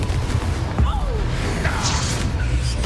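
Confringo spell blast from the Hogwarts Legacy video game: a dense, loud burst of crackling, booming explosive noise with swooshing streaks, sustained across the whole moment and with no one talking.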